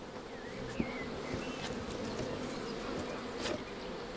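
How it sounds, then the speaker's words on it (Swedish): Honeybees buzzing around a beehive full of honey on a farm: a steady, fairly soft drone of many insects with a few louder passes of individual bees flying near. "bin åldras inte över tid utan man kan säga att de åldras i arbetstimmar"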